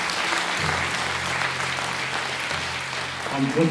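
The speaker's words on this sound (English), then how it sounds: "One more quick round of applause for all of our performers tonight, our 7th grade band and 8th grade band" A school concert audience applauds the 7th and 8th grade bands, steady broad clapping from a crowd in a hall, with a voice talking over it and a low hum running underneath.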